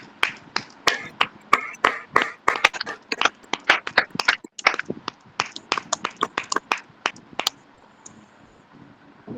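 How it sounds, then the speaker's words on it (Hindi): A group of women at a fellowship prayer gathering claps loudly together to thank God: dense, rapid, sharp hand claps over about eight seconds before fading to quiet. "पहले हम ऊंची ताली करके प्रभु को धन्यवाद देंगे"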